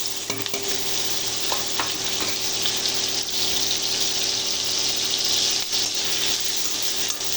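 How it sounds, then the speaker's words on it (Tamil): Onions, green chilies and curry leaves fry in hot oil in a pan, crackling and sizzling steadily up close, with occasional scraping stirs of a spoon and no voices. "இது நல்லா வதங்கணும்."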